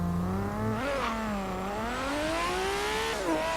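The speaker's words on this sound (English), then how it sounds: "Build up the RPMs." A race-built Nissan Skyline R32 in Forza Horizon 3 holds a loud, buzzy engine drone that climbs in pitch as the revs build, dips briefly, then rises again before launch.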